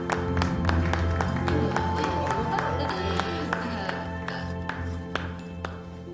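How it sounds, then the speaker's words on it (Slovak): A small group claps sparsely in an animated children's adventure series, with crisp separate claps ringing over a steady tonal hum. "Poprosím vás o potlesk."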